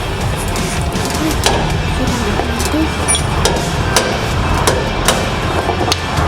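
Repeated metal hammer blows ring out on a bar, a series of sharp clinks spaced irregularly over a steady background noise.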